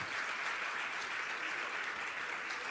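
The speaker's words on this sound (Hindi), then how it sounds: "आपकी अनुमोदना की तालियां जोरदार बजनी चाहिए।" An audience at a Jain religious question-and-answer gathering claps together in sustained, dense applause, a steady wash of many hands from a crowd that carries on evenly throughout.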